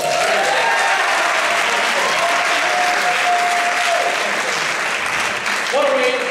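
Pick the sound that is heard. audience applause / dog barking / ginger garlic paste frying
audience applause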